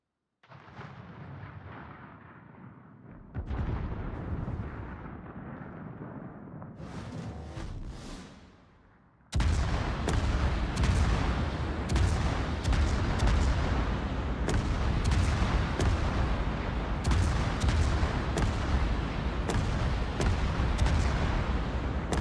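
Naval gunfire in World of Warships: heavy, booming cannon salvos and rumbling blasts, a quieter stretch at first, then continuous loud, dense firing and explosions throughout.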